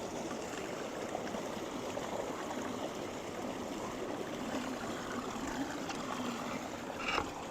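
Water rushing and swirling into a whirlpool at an unclogged culvert beneath a low-water bridge in the Northern Territory, a steady, dense close roar and gurgle with no pauses and no talking.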